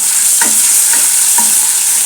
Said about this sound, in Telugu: బాగా బేగని అల్లం వెల్లుల్లి పేస్ట్ వేస్తున్నాను